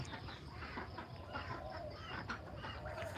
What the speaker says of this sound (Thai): อันนี้เป็ดไทยนะคะเป็ดไทย